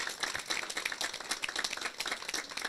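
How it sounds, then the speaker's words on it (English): An audience at a homebuyers workshop gives a round of applause for the panelists and experts, brisk close clapping from a modest group, steady and alone for a few seconds. "Can we give a round of applause for all of our panelists and experts?"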